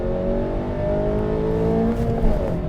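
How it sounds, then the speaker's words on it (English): A 2018 Honda Jazz (Fit) Dynamic engine revs up steadily after a downshift of three to four gears while driving, a loud continuous drone climbing in pitch, with no talking over it. "if you need to make a quick lane change or overtake, be ready to drop 3 to 4 gears"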